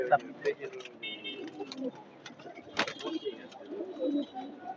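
Pet pigeons kept inside a room coo softly in low, burbling bursts, fairly near and quiet, with scattered clatter and a sharp knock partway through.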